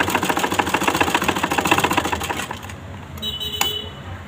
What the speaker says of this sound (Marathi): त्रिकोणामध्ये शिलाई मारून घेते